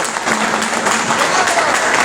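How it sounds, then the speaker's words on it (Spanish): Applause from a conference audience in Peru fills the moment, a dense, steady clatter of clapping hands, fairly close and loud for about two seconds. "Un fuerte aplauso."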